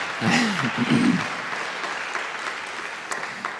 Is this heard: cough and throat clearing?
no